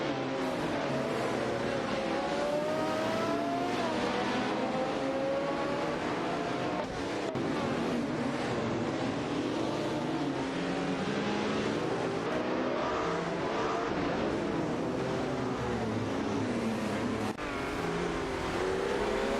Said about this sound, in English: Let's keep the excitement going as we watch these AI race cars tear up the track.